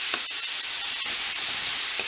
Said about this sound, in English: You want to make sure to get that nice sizzle as usual